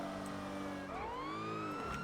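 A police car siren wails as it passes through traffic, a steady rising and falling tone over a continuous hum of road noise.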